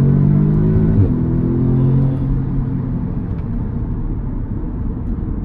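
An Audi S3 Quattro hot hatch with about 300 bhp accelerates hard, its engine rising in pitch then dropping at a quick gear change before pulling on in a loud, steady rumble heard from inside the car.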